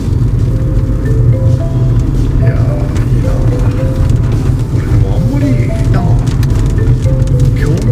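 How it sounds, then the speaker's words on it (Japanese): A heavy tropical squall pours down over a hilltop café terrace in Nakijin, Okinawa, a dense, steady hiss of rain that drums loudly throughout, with faint voices in the background. "スコールやな、これ。"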